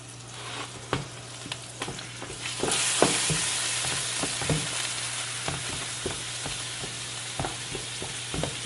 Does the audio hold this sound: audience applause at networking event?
no